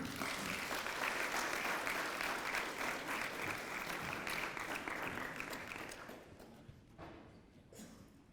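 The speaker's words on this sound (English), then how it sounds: "How about a big round of applause for Mr." A crowd applauds former Falcons strong safety William White at the Ironton Tanks 100th anniversary celebration. Steady, full clapping carries on for about six seconds, then thins and fades to scattered claps.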